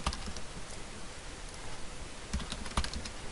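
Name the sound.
typing a password on a computer keyboard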